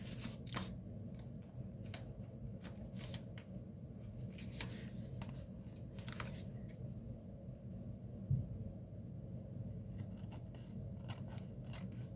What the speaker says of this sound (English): And I am just trimming this off.